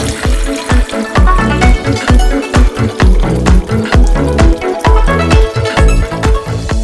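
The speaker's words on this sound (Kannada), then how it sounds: "ಇದಕ್ಕೆ ನೀರು ಹಾಕಬೇಕು ಒಂದು ಸ್ವಲ್ಪ" Water is poured into a cooking pot, a loud, close, gulping and splashing stream with rapid rhythmic pulses of sloshing throughout.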